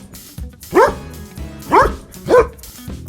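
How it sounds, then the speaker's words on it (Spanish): A dog barking close and loud, three separate sharp barks spaced about a second apart, with a softer sound at the start and no talk. "Correcto, es el perro, el mejor amigo del hombre"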